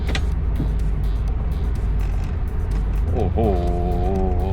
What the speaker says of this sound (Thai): โอ้เครื่องแรงเลยนี่คือเครื่อง V6 V6 ครับ V6 ของ Maserati นะฮะ